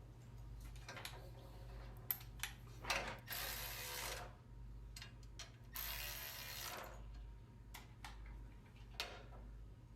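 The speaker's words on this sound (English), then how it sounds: "And once we have it there, we'll go ahead and secure those bolts." A ratchet wrench tightens bolts on a GrassFlap grass flap mounted on a Scag SWZT 48-inch mower, faint quick clicking bursts with two longer ratcheting runs over a low steady hum.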